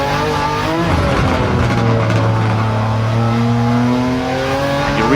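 A RUF CTR Yellowbird's turbocharged engine in a racing video game revs and downshifts into third gear, its rising and falling engine drone loud and close, with brief tire noise underneath.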